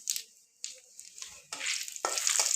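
Cumin powder spatters and crackles as it hits hot oil, a bright hissing sizzle that flares in several quick surges and builds louder toward the end, close up with no voices.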